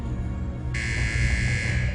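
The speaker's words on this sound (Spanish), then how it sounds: "Oía 3 timbres antes de que alguien entrase en mi celda." A prison security buzzer in a cell block sounds abruptly after a moment of low rumble, then holds as a steady, loud electronic tone.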